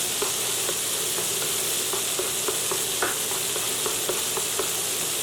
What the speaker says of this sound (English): Now we can start sauteing our garlic